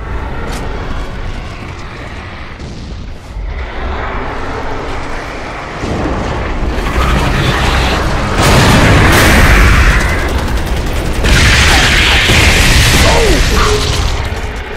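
Loud explosions rumble and boom in the Gears of War 3 video game, layered over heavy mechanical drones in a continuous roar that swells into bigger blasts toward the end.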